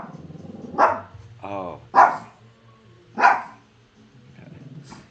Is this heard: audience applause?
no